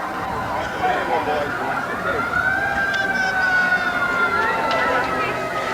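Wilmington's Engine 2, a 1978 fire truck, wails its siren in a rising and falling sweep during the town's 250th anniversary parade, heard at a moderate distance with people talking nearby.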